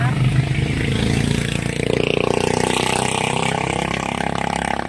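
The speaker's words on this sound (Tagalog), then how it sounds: "ang ingay ng motor." A motorcycle engine runs loud and steady close by, its mid-pitched drone holding throughout with a slight rise partway, while voices talk over it.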